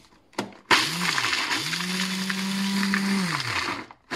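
A food chopper whirs as it chops walnuts, starting with a short burst, then running in a loud, steady grinding whine that rises and falls in pitch before cutting off near the end.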